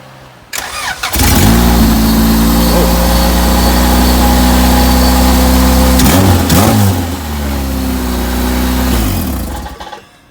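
A C8 Corvette with only its exhaust headers fitted and the rest of the exhaust unhooked cranks and fires up loudly up close, settles into a rough idle, then revs briefly before shutting off.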